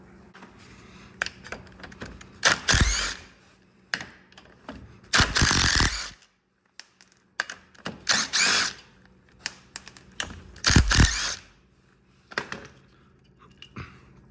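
Hand ratchet clicking in repeated bursts while removing the four 12mm bolts holding the brake drum on a 1999-2004 Honda Foreman 450 ATV, with pauses between each loud close run of clicks.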